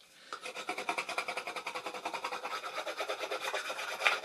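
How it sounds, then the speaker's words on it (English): A metal knife handle rubs briskly back and forth along the edges of a hand-carved wooden spoon, making a quick, even series of close, soft scraping strokes, about four or five per second. "take the handle of a metal knife and just burnish all the edges just to soften them up a bit"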